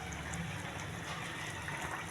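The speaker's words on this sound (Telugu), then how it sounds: "కొద్దిగా చింతపండు వాటర్ కొద్దిగా వేయాలండి," Tamarind water pours into a simmering fish pulusu (fish curry) with a soft, continuous liquid wash, faint and close, with no voices.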